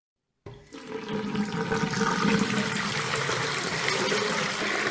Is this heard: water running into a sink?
yes